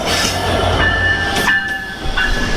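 An American-built diesel locomotive hauling the Sundarban Express rumbles in close by, a heavy, steady roar with a sustained high metallic ringing tone over it; no voices.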